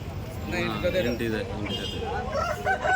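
Native desi chickens cluck and a rooster crows at a busy poultry market in Chandapura, close by, with people talking over the birds throughout.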